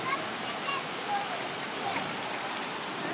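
Water rushes steadily into an old Alaskan gold mine tunnel, a constant broadband hiss of flowing water, close and even in loudness with no breaks.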